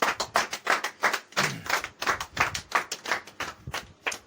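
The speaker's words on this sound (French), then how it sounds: "Applaudissons pour le Seigneur." A church congregation claps during a worship service, sharp, distinct hand claps falling in a fairly regular, rhythmic pattern, close and moderately loud with no talk over them.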